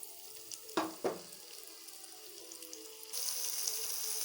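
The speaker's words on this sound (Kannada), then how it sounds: "ಆನ್ ಮಾಡಿಕೊಂಡು ಪ್ಯಾನ್ಗೆ ಸ್ವಲ್ಪ ಆಯಿಲ್ ಹಾಕಿದ್ದೀನಿ. ಸೊ ಬಿಸಿ ಆಗಿದೆ. ಸೊ ಆನಿಯನ್ಸ್ ಹಾಕ್ತೀನಿ." Onions hit hot oil in a pan with two soft thuds, then a steady sizzle of frying swells and grows louder toward the end.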